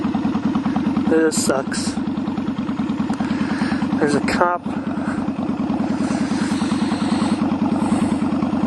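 A motorcycle engine idles at a red light with a steady, close, low throb, while a rider talks over it throughout.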